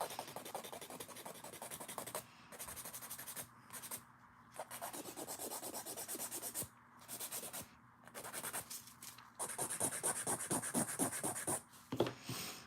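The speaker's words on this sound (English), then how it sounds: "I will say these gels are hard. So when you're filing, it takes a little bit of effort." Hard gel dip nails being filed with a nail file, giving rapid rhythmic rasping strokes in bursts separated by short pauses. The sound is close and quiet, with no talking.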